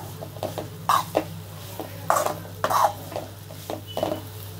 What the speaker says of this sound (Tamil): மஞ்சள் நல்லா வதங்கணும்.